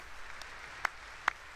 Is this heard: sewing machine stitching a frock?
no